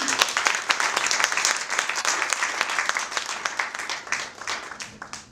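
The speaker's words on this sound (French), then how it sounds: "Donc, Yousra, sous vos applaudissements, merci." Audience applause at an association's inauguration evening, brisk and lively clapping from a room of people, strongest at the start and tapering off over about five seconds.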